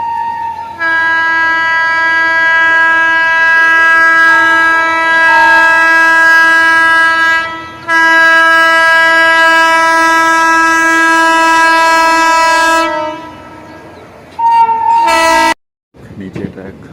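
Nauchandi Express train 14242 creeps along slowly, its loud sustained horn blaring in long tones with brief breaks, heavy and close, ending in a short final blast.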